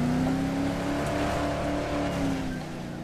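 A car drives steadily through the Dead Island Riptide game, its engine a loud continuous drone with a sustained hum that eases slightly toward the end, heard alone without talk.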